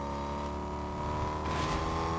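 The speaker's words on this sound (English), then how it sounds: "Is there another car?" Car engine in the video game Fortnite, a steady droning motor hum that swells slightly as it accelerates, continuous and fairly loud with no talk.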